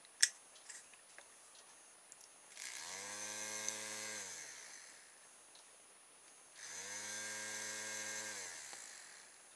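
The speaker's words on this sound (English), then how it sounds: "So we've got a working electric motor." The small electric motor of a solar vent, its fan blade marked with sticky tape, whirs up in two separate runs, each rising to a steady buzzing hum and winding back down, close and fairly quiet with no talk.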